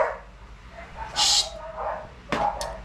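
A dog barks a few times, sharp and fairly close, with brief whimpering yips between, over quiet room background.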